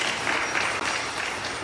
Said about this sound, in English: Give him a lovely round of applause